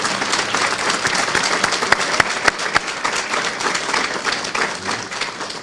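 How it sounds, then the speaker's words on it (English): Applause from an audience at a Washington County Sheriff's Office community gathering, honoring Barry Benazzi: dense, steady clapping lasting several seconds, with a few sharper individual claps standing out near the middle. "I'd like to give him a round of applause"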